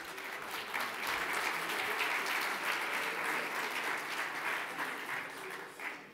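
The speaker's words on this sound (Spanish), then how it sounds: "un aplauso para recibirlos" An audience at a conference on disruptive maritime events applauds incoming panelists, sustained dense clapping from a large crowd lasting about six seconds, moderately distant and fading slightly at the end.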